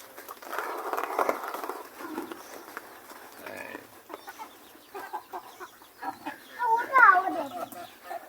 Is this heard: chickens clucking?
yes